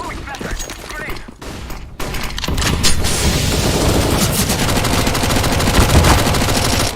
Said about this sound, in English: I'm throwing flashbang.